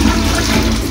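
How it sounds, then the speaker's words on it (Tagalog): A toilet in Saudi Arabia flushes, a brief, loud rush of water filling the moment alone. "Magana ang flush."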